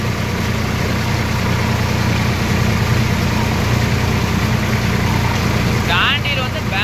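A Swaraj 744 XT tractor engine runs steadily at a low, constant idle-like drone throughout, loud and close, with a brief burst of a voice near the end.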